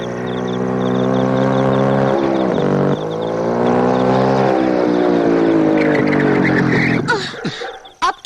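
A car engine drones steadily while driving, then sputters and jerks before cutting out on its own, ending in a few clunks and near silence.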